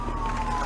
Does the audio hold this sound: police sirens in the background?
yes